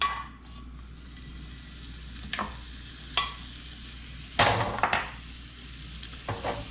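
Butter melting in a hot crepe pan gives a soft, steady sizzle, broken by several sharp clinks and scrapes of the pan and utensil.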